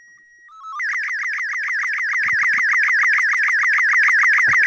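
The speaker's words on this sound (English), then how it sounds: "That sounds like dial-up internet." Two short steady electronic beeps, then a continuous loud warbling, oscillating tone like dial-up modem data transmission, with faint clicks underneath.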